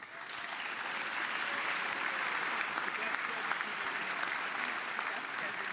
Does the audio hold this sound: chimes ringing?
no